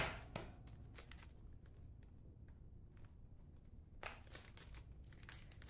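Faint crinkling and rustling as a paper envelope and a small plastic bag of light pink geranium seeds are handled in a greenhouse, in scattered soft bursts with a louder crackle near the start and again toward the end.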